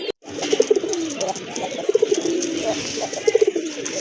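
Pigeons coo in repeated soft, throaty bursts, three rounds close by over a steady background hum, with a voice talking faintly behind them.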